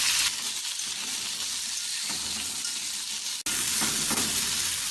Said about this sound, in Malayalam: ഇതിനി കുറച്ച് സമയം ഇളക്കി വഴറ്റാം.